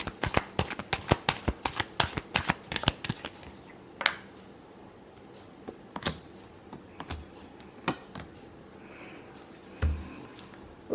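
Tarot cards are shuffled nearby in a rapid run of crisp clicking riffles for a few seconds, followed by quiet stretches broken by occasional single card snaps and taps, with no talk.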